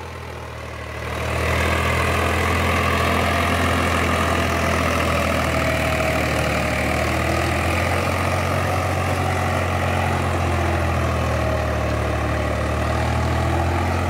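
A Swaraj 735 tractor engine, working a 9-tine cultivator, rumbles steadily at close range with a deep, continuous diesel drone that swells up in the first seconds and holds even throughout.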